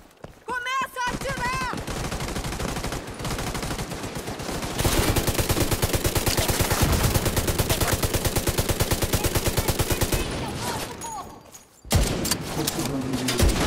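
Rapid automatic gunfire in The Division 2 video game, long sustained bursts of close, loud shots with brief pauses, over game effects and shouted voices.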